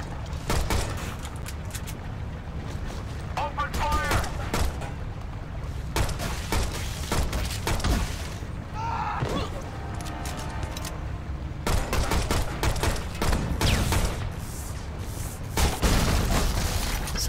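Gunfire in the Shadow Complex video game comes as repeated bursts of sharp shots and booms, in clusters with short pauses between, loud and close, with no talk.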